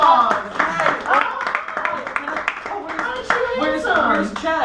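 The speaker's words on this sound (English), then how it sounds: "a round of applause" A small audience giving a round of applause to a guest at a chat show gathering, scattered clapping mixed with voices and cheerful chatter, moderately loud and close.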